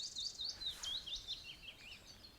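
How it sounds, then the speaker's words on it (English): Willow warblers sing at a dawn chorus on Walney, a thin, high cascade of sweet descending phrases repeating across the clip, fairly close and clear over a quiet background with no talking. "Willow warblers, a little bit more kind of bounce and spin, but that descendingness to them."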